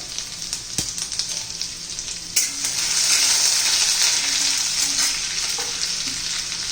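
Grated ginger and garlic hit hot tempering oil. A few light clinks come first, then the sizzle swells into a loud, sustained crackle with no talking.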